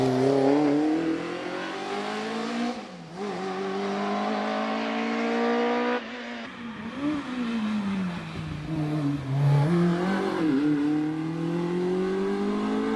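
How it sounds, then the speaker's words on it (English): A Peugeot 106 1600cc car on a hill climb practice run revs hard through its gears, the engine note rising and dropping with each shift as it accelerates continuously, loud and fairly close. "Car number 145 is Johnny Toon in the Peugeot 106 1600cc machine"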